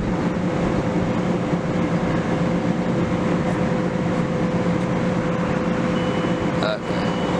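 Continuous rumble and rattle of a train rolling past nearby at Lynbrook, bound for Valley Stream, steady and loud throughout, with a brief squeal near the end.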